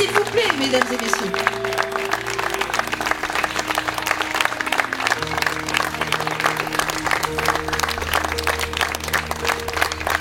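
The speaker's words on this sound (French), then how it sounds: "Un tonnerre d'applaudissements, s'il vous plaît, mesdames et messieurs" Continuous applause from a wedding crowd, many hands clapping at once in a thick, even roar, with background music and a few voices mixed in.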